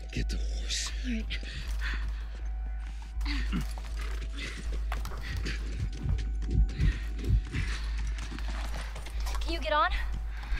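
Horse hooves clip-clop in a quick galloping rhythm in The Last of Us, close by, beneath low whispered voices and a steady low hum.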